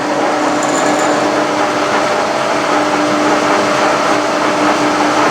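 A metal shaper machine cuts steel vee blocks with a steady, loud mechanical whir and faint tonal hum running continuously throughout, no pauses or voices.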